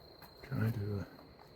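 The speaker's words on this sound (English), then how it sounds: "I do hear crickets" Crickets chirp as a faint, steady high trill throughout at night in Devil's Den State Park, Arkansas, with a short low murmur partway through.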